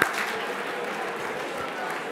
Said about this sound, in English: If you can hear me, clap, clap twice.